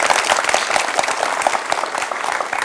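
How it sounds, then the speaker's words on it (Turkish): A seated audience at a talk on sleep and waking up refreshed claps steadily, dense, fairly loud applause with many hands beating continuously and no speech. "Bir alkışınızı alırım o zaman."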